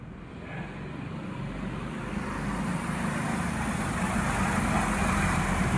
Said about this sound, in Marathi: या ठिकाणी वाहने सुरू झालेली आहेत.